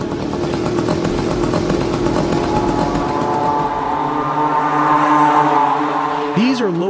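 A piston-engine loitering munition drone droning like a motorcycle, a loud buzzing engine note that shifts upward in pitch, with a voice speaking over it.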